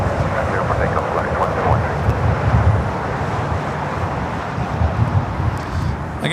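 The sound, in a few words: airliner taking off from LAX runway 25 right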